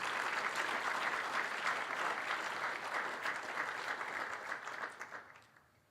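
Sustained audience applause welcoming the Vice President of the IFC at an opening session of a capital markets conference, a dense steady clapping that fades out toward the end.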